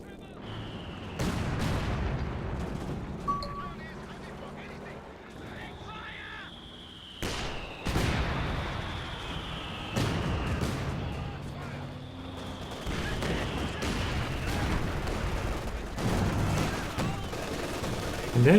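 Howitzer artillery in Company of Heroes 2, a 2v2 match, booms repeatedly in heavy, irregular blasts with long rumbling tails, while a commentator talks over the top.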